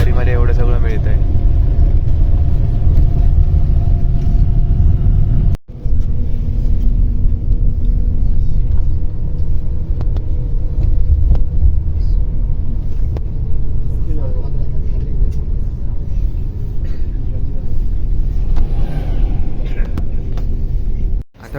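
Steady low engine rumble and road drone inside a luxury intercity bus travelling from Tbilisi to Batumi, continuous and close throughout, with one brief dip midway and speech over the cabin noise.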